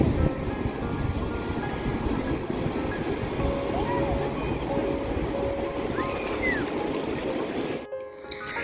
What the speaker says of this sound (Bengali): আর এখন প্রায় জোয়ার আসছে, দেখো আমার পেছন থেকে জোয়ারের জল আসছে পুরো